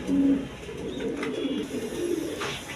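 Lahori pigeons coo softly in low, repeated burbling calls, close by, over steady background noise with a few faint chirps.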